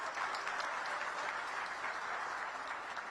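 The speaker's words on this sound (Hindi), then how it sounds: "तो सभी अधिकारियों के लिए एक बार जोरदार तालियां।" A crowd at a Delhi inter-state bus launch claps for officials in a steady, even burst of applause, somewhat distant and moderately quiet, with no pauses.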